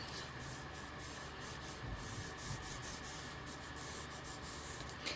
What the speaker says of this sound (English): now we're just going to rub again, see what we get on our second one